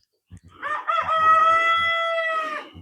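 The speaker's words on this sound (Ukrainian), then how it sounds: "Курі теж прокинулись, верещали вже, кукурікали." A rooster crows loudly and close by in one long drawn-out call, with hens clucking softly underneath.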